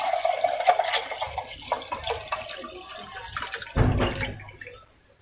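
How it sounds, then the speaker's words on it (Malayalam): Spiced buttermilk poured into a clay pot gives a wet, splashing trickle, with a louder gush of liquid near the end before it stops. "ഞാനിപ്പോ ചെയ്യുന്നത് നമ്മുടെ മൺകുടത്തിൽ ഒഴിച്ചു വെക്കുക."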